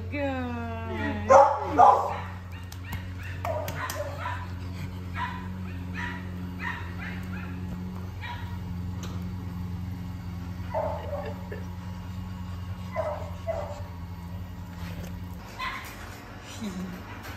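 Rescue puppies whimpering and yipping, with a burst of sharp yips early on, then softer whines and small squeaks scattered through a steady background hum, under intermittent talk.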